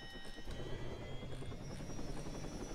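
Helicopter in the ArmA 3 video game, a steady loud rotor and turbine drone with a continuous low beating throb and high whine, heard alone and close throughout.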